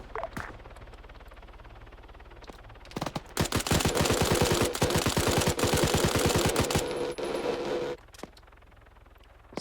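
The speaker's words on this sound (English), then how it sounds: "still have some 50 cal firing back and forth here" Heavy .50 caliber machine gun fire in an Arma 3 battle, a loud sustained burst of rapid evenly spaced shots lasting several seconds, preceded and followed by quieter scattered gunfire and ambient battle noise.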